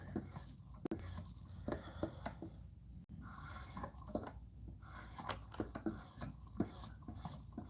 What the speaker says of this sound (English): Let's put a little bit more of a polish on this edge before we strop it.